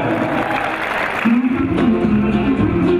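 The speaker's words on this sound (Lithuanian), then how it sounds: "jūsų aplodismentai" Brief burst of applause from an audience, with music and a voice carrying on underneath.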